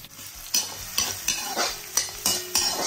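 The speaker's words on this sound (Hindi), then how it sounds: "अब मैं इसमें चॉप किए हुए गार्लिक डालूंगी, छोटे कटे हुए इसमें प्याज डालूंगी।" Chopped garlic and small-cut onion hit hot olive oil in a kadai, giving a steady sizzle broken by about six sharp scraping stirs of a spoon, close and fairly loud, no voices.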